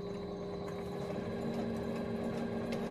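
A sewing machine back stitches a hoodie seam, humming steadily and close by for the whole stretch with no pause or talk.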